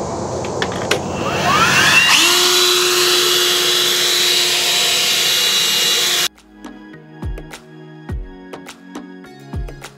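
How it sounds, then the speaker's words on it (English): A battery-powered electric leaf blower runs loud and close with a steady whine for about six seconds, then cuts off abruptly, leaving scattered knocks and handling clatter. "that is like my new favorite tool is the electric leaf blower."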